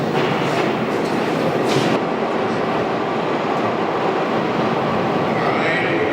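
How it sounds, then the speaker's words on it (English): A subway train rumbles loudly and steadily into a station, its broad roar filling the whole stretch with faint wheel clatter and a brief high squeal near the end. "Train's coming in."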